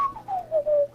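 A person whistling a single short, soft tone that slides gently downward and wavers for about a second, alone in a quiet room.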